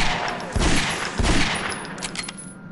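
Gunfire in a ghost-hunting video game: a quick run of several sharp shots in rough succession, loud and close, over a steady noisy background.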